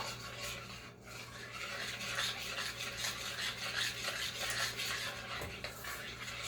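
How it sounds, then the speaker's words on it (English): Two eggs, an extra yolk and vanilla are stirred in a bowl for candy cane blondies, giving a continuous close scraping and swishing with light rhythmic rubbing against the bowl and no talk. "Go ahead and give those a quick stir."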